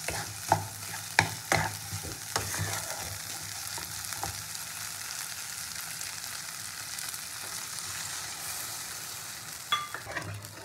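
A spiced masala for a singhi fish curry sizzles in a pan while a spoon stirs it, a close, steady frying hiss with scattered scrapes and taps, louder clusters near the start and the end.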